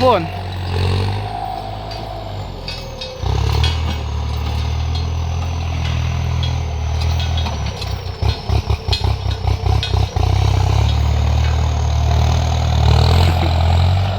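A heavy tractor engine idles steadily at a low, rumbling pitch, briefly chugging in a rapid pulsing rhythm before settling back, with a voice talking over it.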